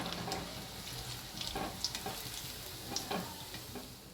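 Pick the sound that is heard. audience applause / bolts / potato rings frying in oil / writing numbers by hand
potato rings frying in oil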